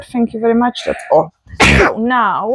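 A single sharp sneeze bursts out at close range in the middle of speech, with talking just before and after it while trail race gear is being packed.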